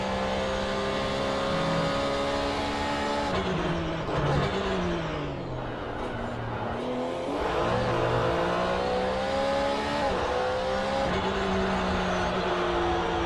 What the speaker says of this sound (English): Here's the view from Daniel Kirby's cockpit in the number 90 Porsche 911 GT3 1992